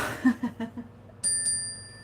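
A small bell rings clearly once, its bright tone sustaining toward the end, after a few soft muffled knocks.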